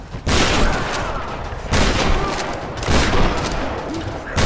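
Gunfire in the action game Tomb Raider comes as three loud, heavy shots, each followed by a long booming decay.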